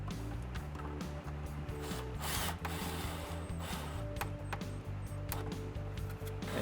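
A power drill drives 2-inch drywall screws through PVC pipe hooks into a wall beside a door stile, giving a steady ratcheting, whirring mechanical grind that runs nearly nonstop and close up, with no voices.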